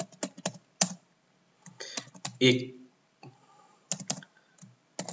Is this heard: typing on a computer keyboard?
yes